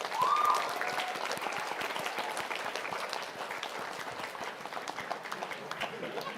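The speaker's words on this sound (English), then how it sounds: "please give a huge round of applause to him" A crowd applauds a fifth-ranked student at an engineering entrance exam results meet, sustained dense clapping filling a hall, slightly louder at the start and then holding steady.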